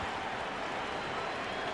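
Steady roar of an arena crowd cheering and applauding in an NBA 2K basketball game late in the fourth quarter, a dense continuous wash with no breaks.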